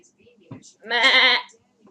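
A person mimics a sheep's bleat with a single wavering "baa" lasting about half a second, preceded by faint murmurs.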